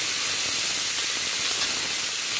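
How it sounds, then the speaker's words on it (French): Lardons and onions sizzle in olive oil in a pan as a steady, dense hiss that holds even and close throughout, with no voices. "je vais remettre un petit peu d'huile d'olive et je vais rajouter mes lardons et mes oignons"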